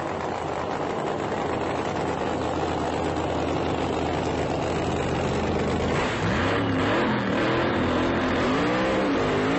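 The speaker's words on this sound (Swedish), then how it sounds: "Leif Lander, du ska få köra åtminstone en halv repa med din dragster en funny car nu." Funny car dragster engine running at Mantorp Park race track in 2002, a loud rumbling idle that breaks into revving with pitch swooping up and down near the end.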